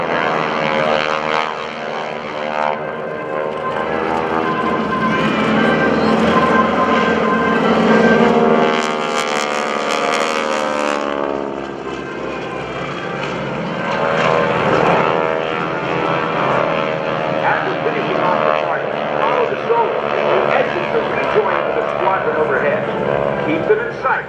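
GEICO Skytypers propeller airplanes make low passes at an Air National Guard airshow in Rhode Island, a loud droning engine roar that swells and fades as the aircraft sweep by, with a narrator speaking over it.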